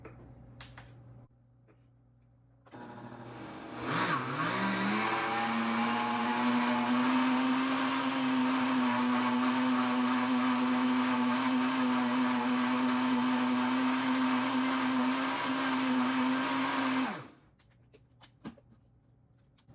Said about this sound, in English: I'm gonna go ahead and get it blended up.